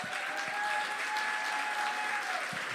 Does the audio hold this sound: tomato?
no